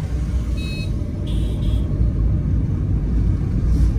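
Traffic jam in Dhaka: a dense, continuous low rumble of idling and creeping engines, with a few brief high horn-like tones early on, and no voices.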